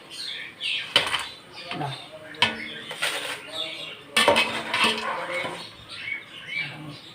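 Crispy Kerala banana chips lifted out of hot frying oil with a metal slotted ladle; sharp, irregular metallic clinks and scraping against the pan, close by, with soft oil crackle between strikes.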